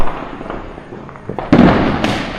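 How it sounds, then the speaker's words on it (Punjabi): Diwali firecrackers burst across a Punjab village at night, with steady distant crackling and then a sharp, loud bang followed by another burst. "ਪਿੰਡ ਦੇ ਅੰਦਰ ਕਿਦਾਂ ਪਟਾਕੇ ਵੱਜੀ ਜਾਂਦੇ"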